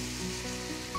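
A pan of pasta sauce with vegetables, chopped basil and tomato sizzles steadily and loudly after being deglazed with white wine, a continuous close frying hiss with faint stirring throughout.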